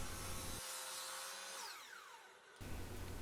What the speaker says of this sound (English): Then I move to the miter saw, trim 1 inch square, and then cut each panel to its final length.